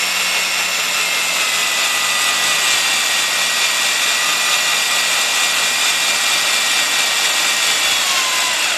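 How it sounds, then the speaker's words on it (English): Power drill boring steadily during head gasket, timing belt and water pump work on a Honda Accord, Odyssey or Acura CL engine, a continuous loud high whine holding level for the full stretch with no talk. "That's some perfect drilling right there."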